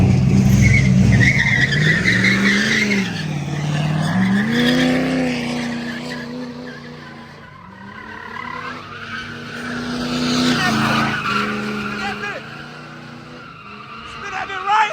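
Muscle car spinning donuts at a street takeover, tires squealing and skidding in long wailing sweeps over a revving engine, loud and continuous with a crowd shouting nearby.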